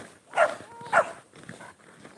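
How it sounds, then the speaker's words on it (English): A dog wearing a jacket gives two sharp, close barks about half a second apart outdoors in snowy Montana, followed by quieter shuffling. "there's a dog in a jacket."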